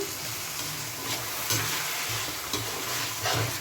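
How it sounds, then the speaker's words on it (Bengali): Keema sizzling in a pan for a pasta dish after water is poured in, with steady frying hiss and periodic stirring scrapes, close and moderately loud, no talking. "এবার আমি জলগুলো দিয়ে দিচ্ছি।"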